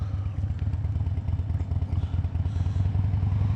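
A Harley-Davidson Dyna motorcycle rumbles steadily while being ridden, its low engine throb continuous and loud, with wind buffeting and road clatter mixed in and no talking.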